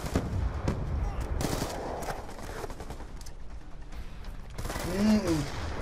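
Light machine gun fire in a first-person shooter match, heard as sharp bursts of rapid shots early on that give way to rattling mechanical clicks and a rising whine near the end, with no talking.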